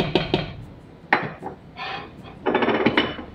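A spoon scrapes and clanks in a pot while cheddar cheese is stirred into mashed potatoes, with a few separate knocks and then a louder burst of rhythmic scraping, close by and without talking.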